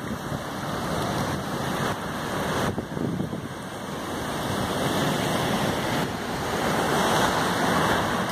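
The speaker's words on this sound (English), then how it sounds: "Oh my gosh, look at that waterfall. Oh my gosh, so much water." The Rogue River pours over a waterfall near Coffee Pot Rapid in a constant broadband roar of rushing water that grows slightly louder toward the end, with a faint high whine running through it.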